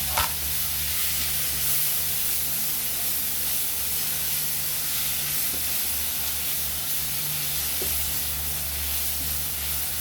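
Ingredients for chaofan fried rice sautéing in a hot pan, a loud continuous hiss and sizzle with occasional faint clinks of stirring, close up and without talk.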